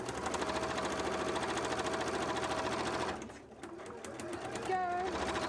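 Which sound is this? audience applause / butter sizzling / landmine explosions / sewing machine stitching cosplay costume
sewing machine stitching cosplay costume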